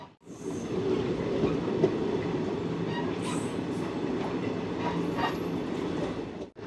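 A special passenger train runs from Bardhaman to Puri with a steady rolling rumble and faint rhythmic wheel clatter, heard from on board throughout. No one talks.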